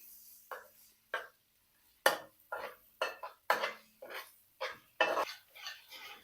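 Chopped garlic and ginger being cooked in oil in a pan, heard as a string of sharp, close scraping and clattering strokes of a utensil against the pan, about a dozen irregular hits with short gaps.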